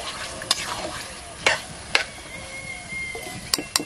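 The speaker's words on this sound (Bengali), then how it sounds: "ভালো করে ভেজে নিচ্ছি" Chicken skin masala frying in a pan: steady sizzling with several sharp spatula scrapes and clinks against the pan at irregular intervals, close and clear.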